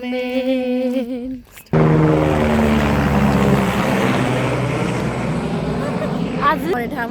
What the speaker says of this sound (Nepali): अर्को हेलिकप्टर आएपछि चाहिँ कालो कालो उड्दैछ है त उड्दैछ